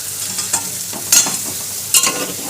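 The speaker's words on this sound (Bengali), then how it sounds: "তারপর মশলা ভালো করে কষাচ্ছি আদা রসুন পেঁয়াজ টমেটো লঙ্কা গুঁড়ো হলুদ গুঁড়ো" Spice paste of ginger, garlic, onion, tomato, chilli powder and turmeric stirred and fried in a home kitchen pan, soft sizzling with a few sharp scraping strokes of the spoon, close and without talk.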